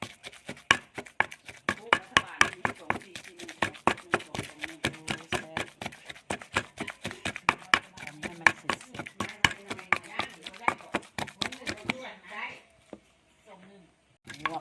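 Shallots pounded in a mortar for a Thai chili dip, a steady run of sharp, rhythmic thuds close by, with someone talking over the pounding before it tapers off near the end.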